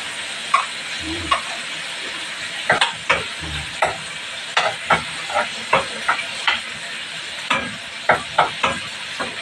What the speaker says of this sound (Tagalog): Sunod na po natin yung ating bawang para isasangkot na natin ito.